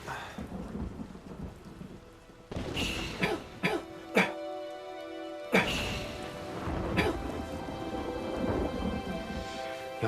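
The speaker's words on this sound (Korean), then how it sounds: "갑자기 비가 오네." Steady rain falls throughout, and after a quieter stretch a series of sharp, loud thunder cracks and rumbles strike close together, with the downpour continuing beneath them.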